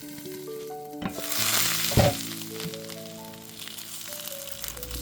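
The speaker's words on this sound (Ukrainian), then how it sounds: "На пательні трохи олії, котлетиків і смажимо до золотої скутки з кожної сторони" Oil sizzles and crackles steadily as egg patties fry in a pan, with a sharp clatter around the middle, while faint tonal background sounds run underneath.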